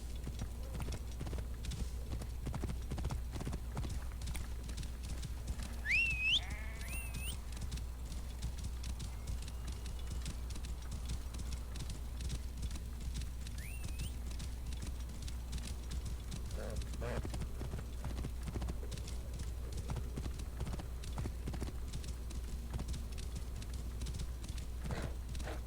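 Rapid hoofbeat clip-clop of a horse galloping in a video game, steady and continuous at moderate loudness, with a brief whinny-like call and occasional voices speaking over it.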